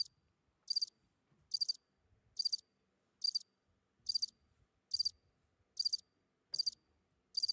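Crickets chirp as an inserted effect, about ten evenly spaced trilling bursts, clear and sharp against near silence.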